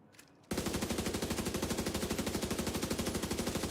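A Slingshot SMG in The Division 2 fires one long, steady fully automatic burst after a brief quiet moment, with evenly spaced rapid shots that stay loud and close throughout.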